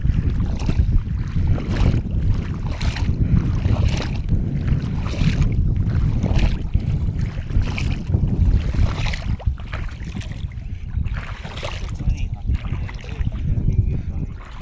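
A hopper pump machine engine runs at a well-digging site, making a loud, steady, close rumble with a rattling low drone that continues without pause. A voice is faintly present at times.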